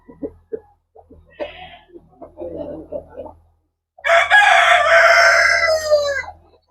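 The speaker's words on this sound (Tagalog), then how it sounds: "So our chickens are getting bigger and bigger." Chickens on a farm, with a few soft clucks and scratchy sounds up close, then a loud, long rooster crow.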